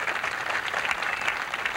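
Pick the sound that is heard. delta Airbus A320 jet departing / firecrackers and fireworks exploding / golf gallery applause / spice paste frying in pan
golf gallery applause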